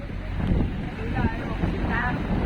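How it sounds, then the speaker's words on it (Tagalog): Strong wind buffets the microphone in a continuous low roar near boats at sea off Palawan, with faint voices underneath. "Malakas pa rin talaga yung hangin."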